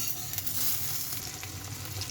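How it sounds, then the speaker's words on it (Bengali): Hot oil sizzles and crackles steadily as rohu fish fries in a pan, with a few sharper pops and no talking. "মাছটা ভাজা হয়ে গেল, তরকারিটা তেলানি দিয়ে দিই।"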